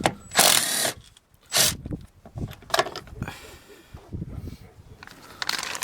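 T40 Torx screws are loosened on the rear hatch lift strut of a Dodge Grand Caravan, giving several short close bursts of ratcheting and scraping separated by pauses, with brief talk between them.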